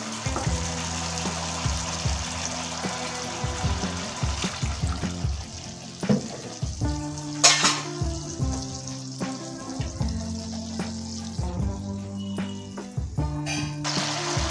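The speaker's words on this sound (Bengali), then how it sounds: "এই মশলাটা অল্প অল্প জল দিয়ে আমি কষিয়ে নেব" Spice masala cooks down with splashes of water in a pan for a potato and parwal curry, a continuous wet sizzle and bubbling with occasional scrapes and clinks of a spoon, fairly close and steady throughout.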